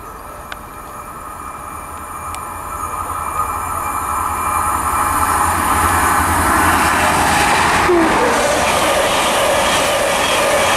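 A passenger train led by power cars 43301 and 43357 rumbles past close by in Somerset, its roar building steadily and staying loud, with a brief squeal of wheels near the end.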